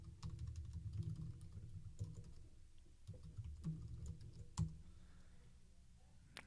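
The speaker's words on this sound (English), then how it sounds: "we're going to type in monthly savings" Typing on a computer keyboard while building an HTML table, with irregular bursts of soft key clicks and taps, close and fairly quiet, with no talking.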